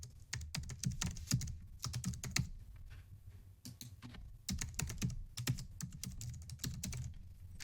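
Typing on a computer keyboard: rapid bursts of close, crisp key clicks with short pauses between runs, fairly quiet and with no talking.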